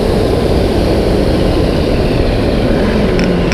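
A Caterham Sigmax engine drives hard around Snetterton circuit on a track lap, a loud, dense, continuous engine roar mixed with wind buffeting, recorded close from the car.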